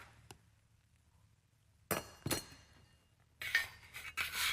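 A spoon stirs homemade soup with celery, carrots and potatoes in a pot, giving quiet stretches broken by bursts of close metallic clinks and scrapes.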